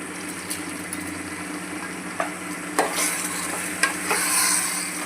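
A spoon scrapes and clatters through vegetables and soaked rice in a pan in a few scattered strokes, with a steady sizzle and a low background hum throughout.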